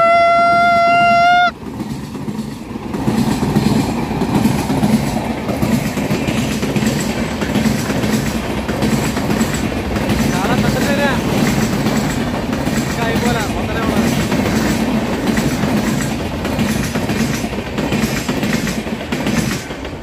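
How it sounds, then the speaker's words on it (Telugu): A train runs through Balapalli forest, its rumble and rhythmic clatter of wheels loud and steady throughout after a brief horn blast at the start, with voices underneath. "బాలపల్లి అడవిలో ట్రైన్"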